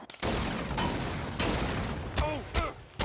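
Rapid bursts of turret gunfire in the survival game Ark: Survival Evolved, a dense sustained volley followed by a few sharper separate shots near the end, loud and close.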